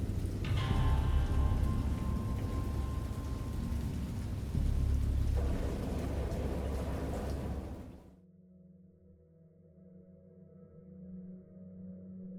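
Heavy rain pours loudly with deep thunder rumbling through it for several seconds in a Lovecraftian horror video game, then cuts off abruptly to a quiet, low tonal drone.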